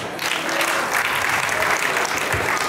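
Audience applause at a live comedy show, with a broad, sustained crowd clapping at full strength throughout and no speech on top.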